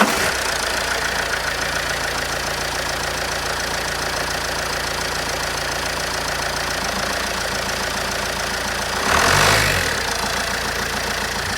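A 2013 Vauxhall Insignia 2.0 CDTi diesel engine with a turbocharger boost fault idles steadily at close range, a continuous low rumble with a brief louder swell near the end; no talk.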